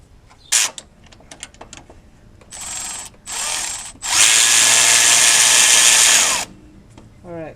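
A power tool works a bolt on a transmission cooling line beside the dipstick during a 3UR-FE engine replacement. Faint clicks come first, then a short whir, a second short whir, and finally a loud, close, sustained whine lasting about two seconds.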